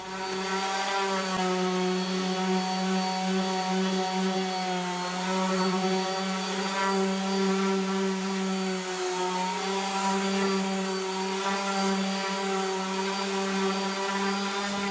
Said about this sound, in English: that's everything sanded down at 80 grit